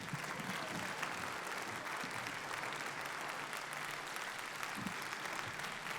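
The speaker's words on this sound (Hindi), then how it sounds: "बहुत जोरदार तालियों के साथ आदरणीय कुमार विश्वास जी का पुनः अभिनंदन।" An auditorium audience applauds in a steady, dense wash of clapping that holds at an even level throughout, heard from a moderate distance.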